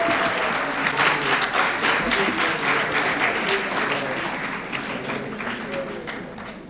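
An audience at an award ceremony in Conakry applauds an honoree, a women's empowerment activist. Loud, sustained clapping fills the whole stretch and eases slightly toward the end.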